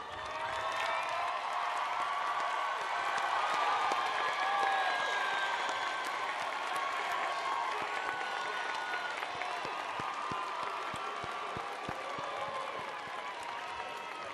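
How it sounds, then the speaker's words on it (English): A commencement audience applauds steadily, dense clapping from a large crowd filling the hall for the whole stretch, moderately loud and even with a few faint cheers mixed in. "let's give them a round of applause."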